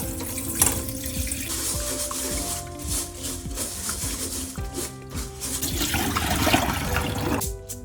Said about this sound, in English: Wash and drain 100 grams of black glutinous rice.